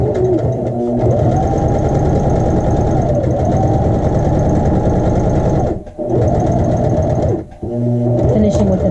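A sewing machine stitches a child's shorts pocket in long, steady loud runs, pausing briefly twice near the end before starting again.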